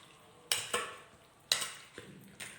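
Four or five eggs being whisked together in a bowl for a broccoli and cauliflower dish, a few sharp utensil strikes against the bowl spaced about a second apart with soft scraping between, close and fairly quiet with no talk.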